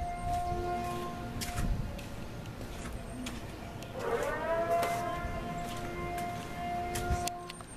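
A siren wails a few houses away, a faint, distant rising and falling tone that swells in the middle and drifts under background noise, heard outdoors with no talking.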